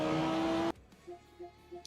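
Race car engines roar loudly in Project Motor Racing, a sustained high revving tone that cuts off abruptly and leaves brief, fainter engine bursts behind it.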